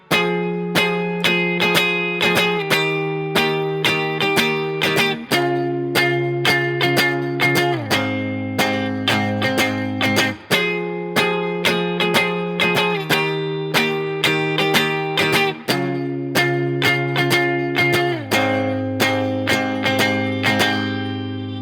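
A guitar, likely distorted, plays the repeating riff of iann dior's "Holding On" as a lesson example: strummed chords at a steady pulse, each phrase stepping down in pitch before the pattern loops, loud and alone.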